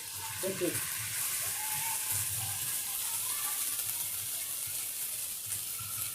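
Medu vada frying in oil over medium heat, a steady broadband sizzle and crackle running throughout, with a faint voice murmuring briefly early on.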